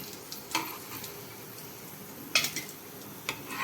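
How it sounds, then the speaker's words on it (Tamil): Potato masala fry cooking in oil in a pan, a side dish for lemon rice: a steady soft sizzle broken by a few sharp scrapes and clinks of stirring at irregular moments, with no talking. "இப்போ அடுத்த பக்கம் வெந்ததும் நம்ம எடுத்துட வேண்டியதுதான்"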